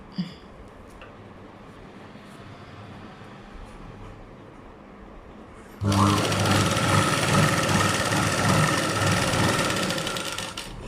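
An electric sewing machine stitching blouse fabric starts midway with a loud, continuous rapid whir that runs to the end, after a quieter stretch with a voice talking.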